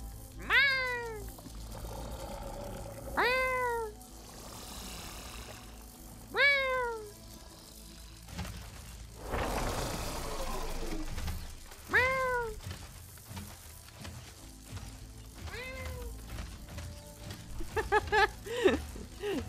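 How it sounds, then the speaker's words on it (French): A talkative cat in Horizon Forbidden West meows repeatedly, about six clear rising-and-falling calls spaced a few seconds apart, with a quick cluster of shorter mews near the end over low game ambience. "C'est un chat très bavard"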